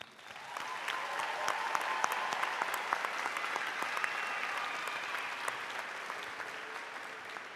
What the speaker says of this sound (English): Please join me in one more ovation for these hardworking students.